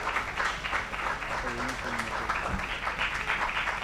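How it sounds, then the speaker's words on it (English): Audience applause at a youth innovation awards ceremony for agricultural startup finalists, a steady wash of clapping that runs the whole time at moderate loudness, with a short stretch of voice briefly audible beneath it. "give them a round of applause"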